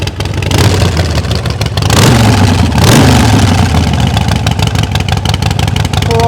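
A motorcycle engine idles loudly nearby, then revs up for a couple of seconds before settling back to a throbbing, uneven idle.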